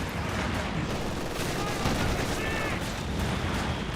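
Repeated anti-tank gun shots from a Pak 40 in Company of Heroes 2, mixed into a dense, continuous wash of battlefield gunfire and explosions, with voices talking over the din.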